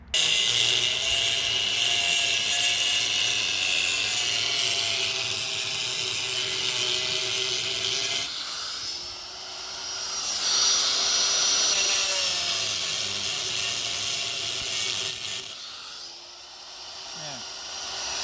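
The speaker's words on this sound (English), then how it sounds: "we have this cutter right here, cutting wheel, and I'm just gonna cut it right down here as best as I can and try not to cut into the threads" A cutting wheel grinds through a BC Racing coilover strut, a loud continuous high whine that shifts in pitch, dips briefly twice as the cut eases, then resumes.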